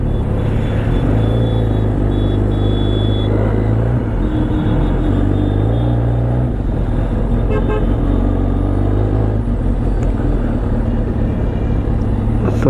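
Steady road traffic rolling past in a loud, continuous rumble of cars and motorbikes, with repeated car horn toots cutting through near and far; no talking.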